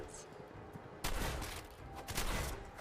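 Gunfire in the video game Fallout 4 breaks out suddenly as a loud, dense burst of rapid shots, continuing as sustained combat noise with a talking voice underneath.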